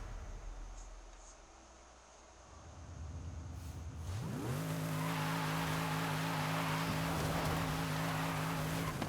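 A tuned Napalm Nova Hoontigan classic muscle car in a racing video game revs up from a low rumble into a loud, sustained, rising engine drone, with faint tire noise underneath.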